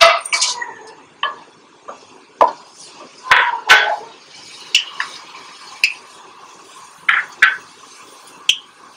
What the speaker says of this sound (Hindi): अब मैं इसमें खड़ा मसाला डालने लगी हूँ